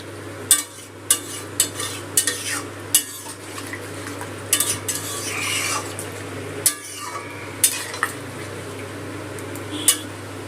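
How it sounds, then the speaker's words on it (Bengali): A spoon stirring banana kofta curry with added water in a pot, regular knocks and scrapes against the metal roughly every second over a low steady hum, no talking. "জলের সাথে সব কিছু ভালো করে মিশিয়ে নেব।"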